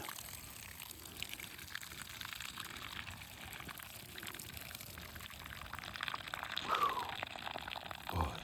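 Hot cooking water strained off a pot outdoors at a hot-tent campsite, a continuous pouring, trickling splash with faint background noise, rising toward the end.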